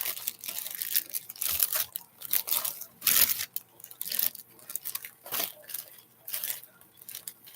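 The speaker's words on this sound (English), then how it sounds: "Let me get rid of some of these plastic bags as I go." Plastic bags crinkle and rustle close by in irregular bursts of crumpling and tearing, soft overall and continuing throughout without speech.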